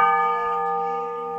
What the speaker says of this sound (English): It was common for monasteries to sound out the time of the divine offices with a bell.